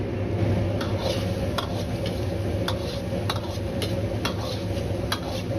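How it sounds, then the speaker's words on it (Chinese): Tomato-braised tofu thickening over high heat in a pan, a continuous bubbling simmer with repeated sharp spoon taps and scrapes against the pan as it is pushed around, close and steady with no voices. "最后开大火，用勺子快速的推动几下，烧至汤汁粘稠就可以了。"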